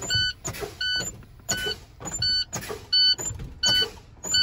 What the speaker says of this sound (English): I'm gonna fan my brakes until they pop out